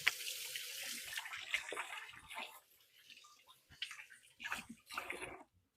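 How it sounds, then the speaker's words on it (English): Tap water runs and splashes over hands at a kitchen sink, an uneven gushing with shifting splashes and brief pauses, fairly close, ending as the faucet shuts off. "let me wash my hands up real quick."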